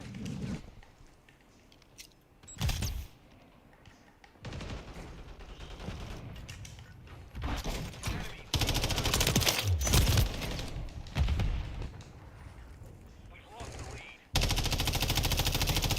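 MTZ-556 rifle fire in Call of Duty Modern Warfare III, loud sustained automatic bursts separated by short pauses, with game effects between them.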